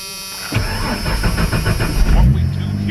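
A car engine cranks over and catches at close range, then settles into a steady rumbling run with slight revving, left idling with the radiator cap open to bleed air from the cooling system after a repair.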